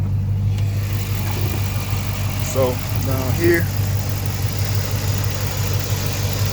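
A Dodge Magnum SRT with a newly installed alternator idles nearby, a steady low mechanical hum with an even pulse, while someone talks briefly over it.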